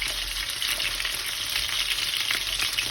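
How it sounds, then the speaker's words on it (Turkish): Steady, close sizzling and crackling of chicken frying lightly on both sides in hot oil in a pan, continuous with no voices. "Tavukları iki taraflı hafif kızarttım."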